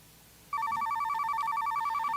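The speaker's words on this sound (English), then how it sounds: "Oh, good. We got another phone call." Telephone ringing with an incoming call, a repeated rapid electronic trill that starts abruptly after a brief quiet moment and continues steadily.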